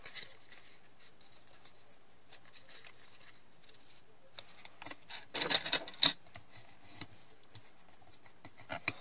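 Paper being scored and creased along fold lines for a handmade explosion box, quiet scratchy rubbing strokes with a cluster of louder crisp pressing and scraping sounds in the middle, close up with no talking.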